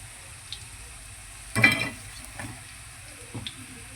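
Potato curry sizzles faintly in a pan with a low steady frying hiss, broken by a brief louder burst of sizzling and a few light stirring scrapes, with no talking.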